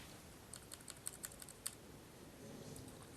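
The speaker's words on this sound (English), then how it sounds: "I can just start typing out a couple letters" Light keystrokes on the keyboard dock of an Asus Transformer Prime tablet, a quick burst of about eight taps in the first half, then quiet room hiss with no voice.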